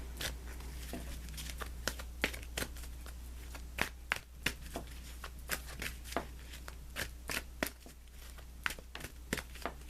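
Tarot cards are shuffled and handled close up in a rapid series of crisp riffling slaps and flicks, irregular but steady throughout, over a low constant hum.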